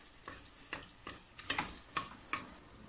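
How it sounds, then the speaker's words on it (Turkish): Cracked wheat (kendime) and onions roasting in a pan for Erzincan tarhana soup, with a spoon scraping and stirring in about six separate strokes over a soft, quiet sizzle. "Kendimemizi ve soğanımızı güzelce kavuracağız."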